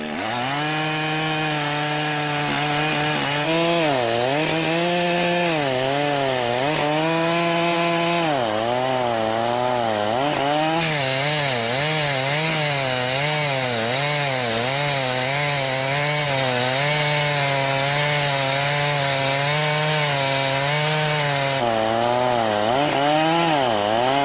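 A chainsaw fells large precious rosewood trees in a Madagascar forest, its engine snarling steadily and close, with repeated revving swells and dips as the blade works through the wood.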